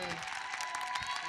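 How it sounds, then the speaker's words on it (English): A brief burst of audience applause for a speaker at a university plenary session, steady and moderately loud throughout with voices mixed in. "Applause for her."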